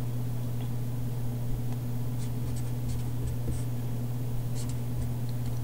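Marker or chalk writing on a classroom board during a calculus lesson on series, a steady faint scratching over a constant low electrical hum, with no talking.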